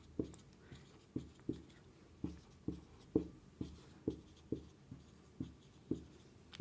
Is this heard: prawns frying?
no